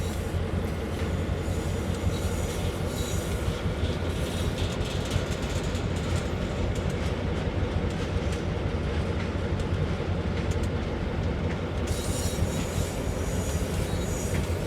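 Amtrak train in Train Sim World rolling along the Northeast Corridor main line, a loud steady rumble of wheels on rails with intermittent squealing and clicking, continuous throughout.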